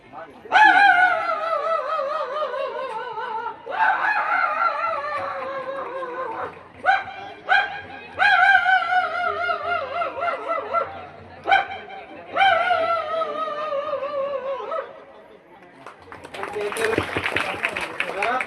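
A voice imitates a dog barking in repeated bursts of yelping, whining barks, loud and close, ending in a rough noisy burst.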